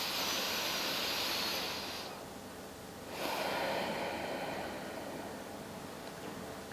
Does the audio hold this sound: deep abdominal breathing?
yes